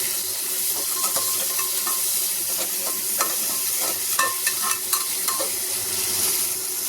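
Ground masala with chilli, ginger and garlic roasts in a pan for a quick peas pulao, a steady sizzle under repeated scraping strokes of a spoon stirring it, close and continuous.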